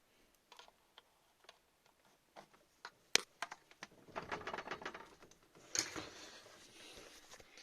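A screwdriver pries a part stuck on with liquid gasket, giving scattered small ticks and clicks, then a sharper snap and a denser run of scraping and crackling as it works loose, close and fairly quiet.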